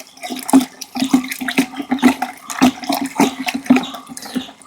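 Liquid plant fertilizer mixed with water is stirred in a container, making repeated close, rhythmic sloshing and swirling splashes with no talk.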